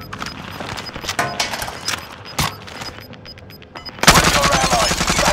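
Call of Duty: Modern Warfare gunfire comes as a string of sharp, close shots, then turns to a dense, loud burst of rapid fire near the end.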